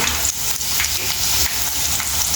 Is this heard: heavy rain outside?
no